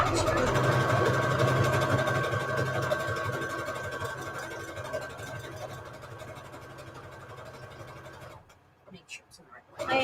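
A home sewing machine set to its longest, widest stitch runs with a steady mechanical whir and rapid needle rhythm, then stops abruptly near the end, leaving a few quiet clicks and shuffles.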